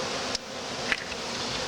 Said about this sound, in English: these bees, as you can see, are pretty much coming out, marching out, because they sense their queens outside the cage